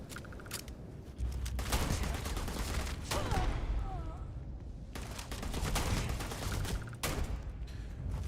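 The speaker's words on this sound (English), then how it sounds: "Fire rate's kind of slow, but it's a hand cannon for sure." Hand cannon fire in the Starfield video game: a slow run of loud, heavy shots separated by short gaps, with combat noise filling the background.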